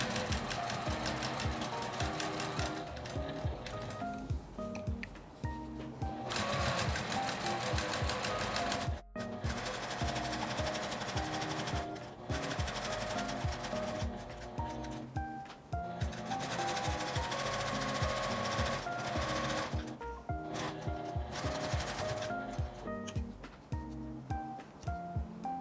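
A sewing machine stitches a magnetic pot holder, running in long steady bursts of rapid mechanical needle clatter with brief pauses between runs, close and loud with no talking.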